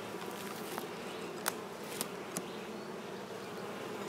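Honeybees buzzing in a steady, dense hum while being transferred from a nuc into a 10-frame hive, close and continuous, with a few sharp knocks from the hive equipment.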